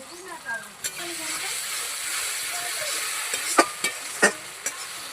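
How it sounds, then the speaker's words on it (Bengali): Chicken stir-fried with tomato and chili paste, a constant close sizzle topped by a few sharp spoon knocks against the pan toward the end, with a voice faintly in the background. "লঙ্কা বাটা দিয়ে আর একটু ভালো করে কষবো।"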